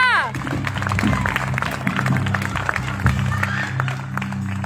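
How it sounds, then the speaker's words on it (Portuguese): Congregation clapping in a church service, a dense steady wash of applause running the whole time with sustained music and a voice calling out over it. "Uma linda salva de palmas para Jesus."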